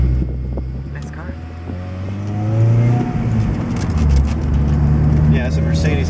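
A car engine hums and rises in pitch as it accelerates, with wind and road noise close by and voices talking over it.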